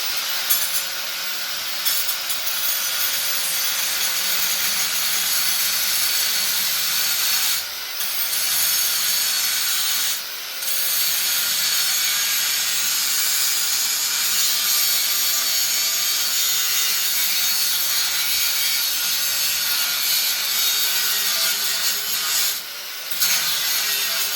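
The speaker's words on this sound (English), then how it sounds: "I'm using an angle grind, quite good, just be careful." An angle grinder cuts through copper tubing with brass fittings for scrap, a loud, continuous high whine and grinding rasp that runs nearly the whole time, broken by three brief dips where the cut pauses.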